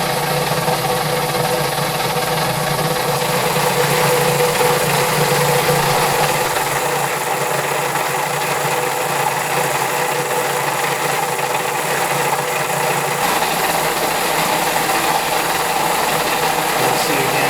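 The gearbox of a Van Norman No. 12 vertical/horizontal milling machine runs with a constant loud mechanical whir and hum, steady throughout with faint ratcheting texture.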